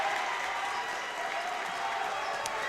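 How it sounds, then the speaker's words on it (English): Crowd at a boys' high school basketball game, Troy at Guilderland, roaring and cheering loudly in the fourth quarter, a steady dense wall of noise throughout with voices mixed in. "the crowd is absolutely going nuts"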